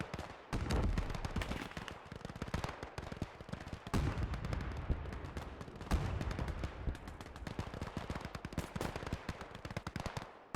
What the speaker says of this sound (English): all the gunshots ringing off across the map